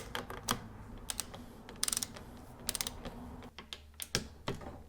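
Socket wrench clicking as it loosens the volume spacer cap on a Fox suspension fork, sounding as soft, irregular ratcheting ticks and taps close by.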